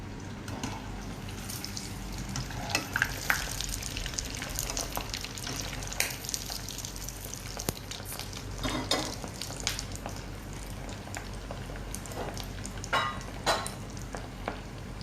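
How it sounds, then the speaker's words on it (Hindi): Frozen kibbeh sizzling in hot oil, a steady soft crackle and bubbling with scattered pops, fairly faint and continuous throughout with no talk. "ये हमारे फ्रोज़न किब्बा भी फ्राई हो चुके हैं।"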